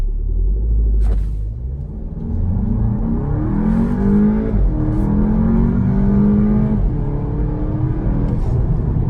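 A Volkswagen GTI Mk7.5 accelerating hard from a standstill to 60, heard from inside as a loud continuous engine rumble rising in pitch through the gears, with brief dips at the shifts and no talking.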